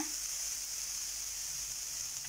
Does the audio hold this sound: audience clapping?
no